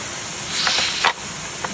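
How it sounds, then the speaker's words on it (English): A pressure canner vents steam while processing beef and venison, giving a continuous loud hiss close by. Brief sharper spurts push through the steady rush. "We're going to wait till it starts venting."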